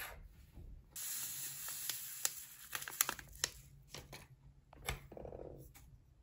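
A sachet of vanilla sugar torn open and poured while making pancakes: faint crinkling and tearing of paper, brief rustles and a soft sprinkling hiss, quiet and close.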